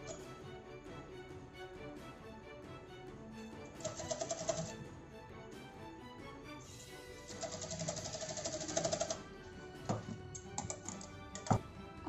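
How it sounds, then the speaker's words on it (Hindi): A sewing machine stitches tucks into trouser fabric in two fast, rattling runs of needle clatter, with quiet handling taps between the runs and a few sharp clicks near the end. "अब हमने एक तरफ सिलाई कर दी है, अब हम दूसरी तरफ सिलाई करेंगे।"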